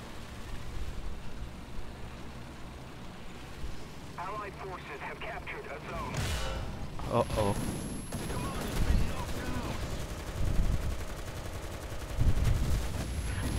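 Tank battle in War Thunder with a Japanese M41A1: engine rumble and scattered gunfire and explosions, some distant, while someone talks excitedly over the noise throughout.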